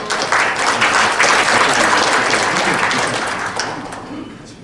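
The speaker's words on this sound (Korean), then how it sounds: "힘찬 박수 부탁드리겠습니다" Audience applause for a guest introduced at the founding ceremony of a farm policy and food forum: a dense, loud burst of many hands clapping, holding steady before thinning out toward the end.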